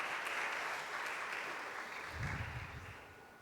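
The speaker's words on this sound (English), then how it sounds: "This is a practice clap." Audience at a career expo panel giving a practice round of clapping, a sustained, even wash of many hands at moderate distance.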